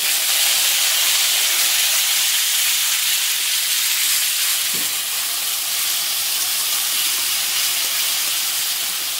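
Onions frying in a pan for a Goan-style arhar dal give a loud, dense, continuous hiss that stays even from start to finish, close up with one faint knock midway and no talking.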